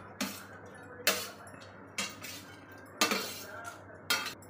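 Okra fried crisp and tossed with ground masala paste in oil, stirred with a metal spoon scraping and clinking against the pan in five sharp, evenly spaced strokes over a low background hum.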